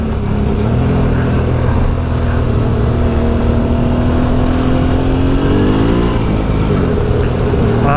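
Motorcycle engine on a mountain gravel track, steady loud droning with pitch sliding up and down through a gear change, revving continuously with wind noise close to the rider.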